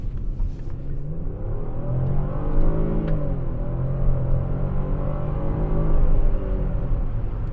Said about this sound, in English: that was full throttle, and it sounded nice